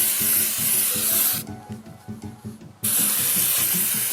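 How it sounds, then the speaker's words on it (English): Steady hissing spray of cleaner onto a cloudy headlight of a classic Toyota MR2 that cuts off and gives way to softer rubbing as it is wiped, then the hiss resumes, all over a low rhythmic background. "spray it on, leave it a minute and wipe it?"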